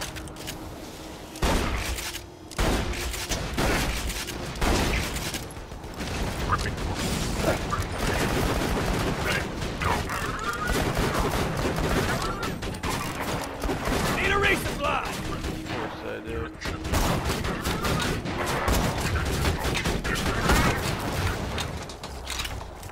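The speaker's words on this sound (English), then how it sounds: "Shotgun again." Shotgun blasts in the Borderlands video game, repeated booming shots in rapid irregular bursts over a dense layer of game noise and effects, with a voice speaking in places.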